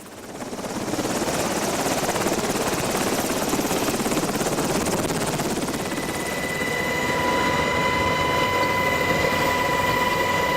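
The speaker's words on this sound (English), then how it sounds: "one helicopter after another transported 3 patients at a time out" A helicopter flies patients out to the hospital ship USNS Comfort. Its rotor and engine roar stays loud and steady the whole time, with a higher whine rising toward the end.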